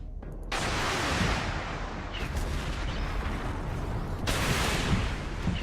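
Missile fired at a hostile tank in the Armored Warfare tank game: two loud, heavy launch blasts about four seconds apart, each followed by a rumbling roar that stays dense and sustained between them.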